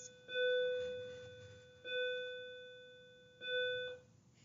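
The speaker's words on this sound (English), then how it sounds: "recording that right as the bell went off" Three evenly spaced electronic bell tones sound in a quiet room, each a clean ding with a steady ringing pitch that decays before the next, in an otherwise silent setting.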